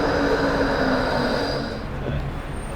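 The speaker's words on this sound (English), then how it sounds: "there's a lot of trams going this way and that way" A tram passes at a city tram stop, a steady loud rumble of rolling wheels and motor with a faint high whine that fades slightly toward the end.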